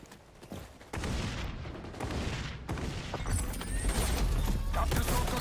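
A frag grenade going off during a multiplayer XDefiant match, a loud burst landing amid ongoing gunfire and clatter, with a low rumbling boom swelling toward the end and faint voices underneath.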